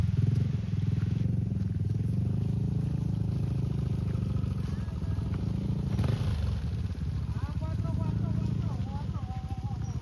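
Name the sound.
scooter motorcycles riding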